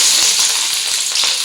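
Chopped onions and curry leaves hit hot oil in a pan for a naatu kozhi fry, giving a loud, steady, crackling sizzle that fills the moment with no voices.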